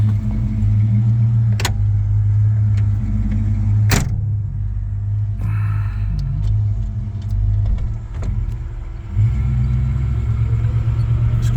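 A 1962 Dodge Lancer car idles with a steady low rumble heard from inside a quiet cabin, continuous throughout with a few sharp clicks and brief shifts in tone.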